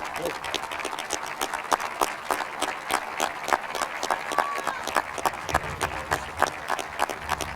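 A graduation audience gives a standing round of applause for a retiring staff member, with dense clapping and scattered individual claps throughout, moderately loud, and voices murmuring underneath.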